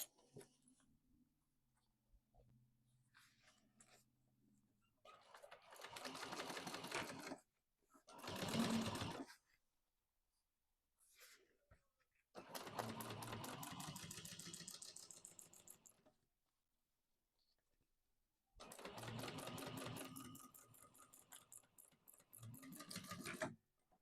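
A sewing machine top-stitches a bag lining in several bursts of steady rapid needle chatter, each a few seconds long and separated by quiet pauses, heard close with no talk.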